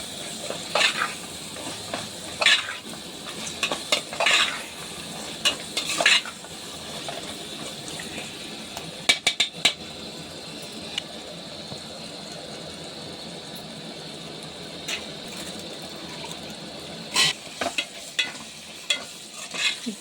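A spoon stirs ginger-garlic paste in an egg curry pan with scattered scraping clicks and taps over a soft steady sizzle, sparse and close, without any talking.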